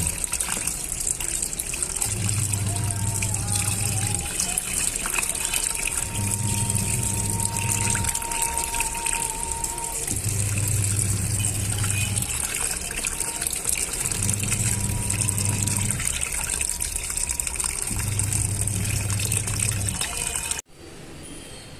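A washing machine fills with water: a steady gush and trickle runs throughout, while a low motor or pump hum pulses on and off in regular two-second bursts, close and even, ending in a quieter hush.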